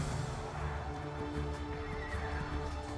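Horses neigh and whinny in a cinematic battle scene from the real-time strategy game Age of Empires IV, with hoof clip-clop and rumbling background noise underneath, fairly loud and continuous.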